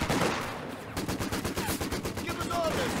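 A 6-pounder anti-tank gun fires in a World War II strategy game, a broad blast opening into a rapid string of sharp gunfire reports in the middle distance.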